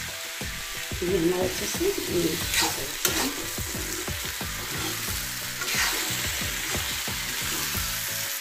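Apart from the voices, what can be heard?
ripe pumpkin curry sizzling in a pan while being stirred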